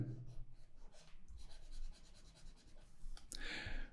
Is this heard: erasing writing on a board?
yes